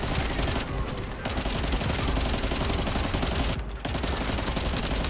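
Rapid, sustained automatic gunfire fills a firefight in the shooter game The First Descendant, a dense continuous barrage with two brief lulls, loud and close throughout.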